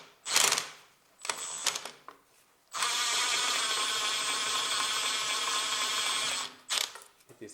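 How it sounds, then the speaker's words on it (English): An electric screwdriver whirs in short bursts, then runs steadily for several seconds while removing a bolt beneath the engine of a 2002–2009 Toyota Prius 1.5, close and fairly loud. "now I take my electric driver. And there is this another side bolt"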